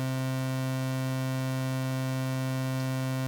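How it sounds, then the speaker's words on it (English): A sustained Commodore 64 synth note played in GoatTracker on a sine wave, a steady unbroken tone with a slightly buzzy edge that holds at an even level without fading. "switch it to a sine wave, which is just a little bit smoother, we now get a sort of slightly buzzy sound"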